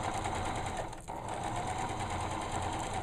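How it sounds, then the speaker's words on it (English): Sewing machine running steadily as it back stitches over a seam allowance, a continuous close mechanical whir with a brief dip near the middle, alone without talk. "I'm going to back stitch."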